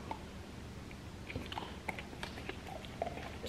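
A dog chews on a pumpkin and honey chew stick, producing quiet, irregular wet crunches and bites at close range over a low background, with no speech.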